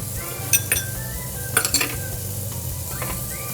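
A New York strip steak sizzles in a pan with butter, tarragon and red wine, a steady close frying hiss broken by a few sharp metallic clinks of a utensil against the pan.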